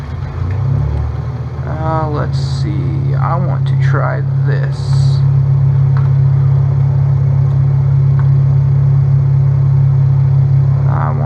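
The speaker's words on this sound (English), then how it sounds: "My engine fired up." Steady droning engine of an aircraft in Flight Simulator X, a loud continuous hum that holds level the whole time while someone talks briefly over it near the start.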